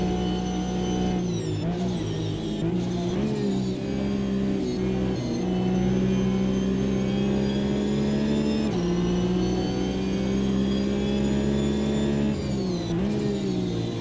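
A Porsche GT4 race car lapping Road America in the Automobilista 2 racing game, its engine droning steadily and loudly with brief dips and rises in pitch as it shifts and lifts through corners.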